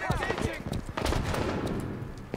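Enemy gunfire in the Halo 5 Warzone video game crackles in rapid, fairly faint bursts of shots, mixed with other game effects over a short stretch.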